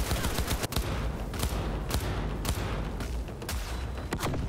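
Dense turret gunfire in a video game rattles in rapid bursts, loud and close, with sharp repeated cracks and booms layered over a busy roar.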